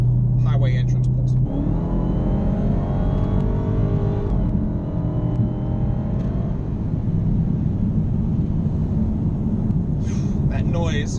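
Dodge Hellcat accelerating hard up a highway entrance ramp, a deep engine roar that climbs steadily in pitch and stays loud and close for several seconds, with brief talk at the start and end.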